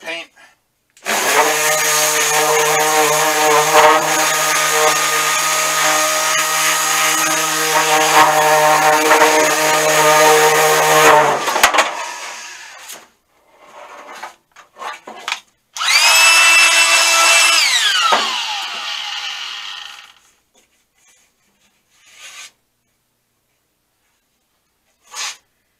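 Power sanding on an old Park Tool tool box with light paint: a loud, steady whirring drone that runs for about ten seconds, stops, then comes back for a shorter burst and winds down.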